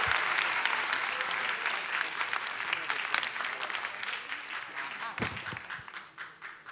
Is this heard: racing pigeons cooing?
no